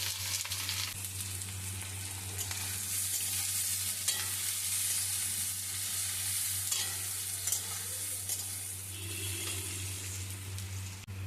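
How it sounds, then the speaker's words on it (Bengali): Sliced carrots fry in white oil and a spoon of ghee in a kadai, giving a steady hiss that runs throughout, with occasional scraping of the stirring spoon. "কড়াইয়ের মধ্যে সাদা তেল দিয়ে দিয়েছি আর দিয়ে দিচ্ছি 1 চামচ ঘি। তারপরে দিয়ে দিচ্ছি কেটে রাখা গাজর।"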